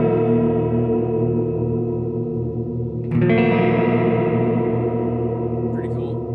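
Guitar chords through a Walrus Audio Qi Etherealizer pedal, drenched in a wobbly modulation effect, warbling and pulsing, with a fresh strum midway that swells and keeps shimmering.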